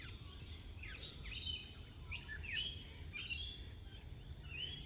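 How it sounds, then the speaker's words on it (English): Several birds chirp and tweet outdoors on a clear, cloudless morning, with quick rising calls repeating in scattered bursts over a steady low background hum. "Birds are chirping."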